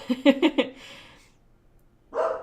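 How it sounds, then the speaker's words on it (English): A dog barks four times in a quick burst nearby, then a pause of quiet before another muffled bark. "Sorry about my dog."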